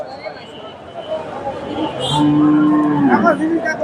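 A cow moos loudly in a long, low call at a cattle market in Bogura, Bangladesh, set against the murmur of a busy outdoor crowd.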